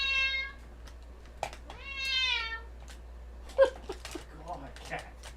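A house cat meows indoors during a home craft session: two drawn-out, rising-and-falling meows, close and clear, with soft talking and small handling noises between them.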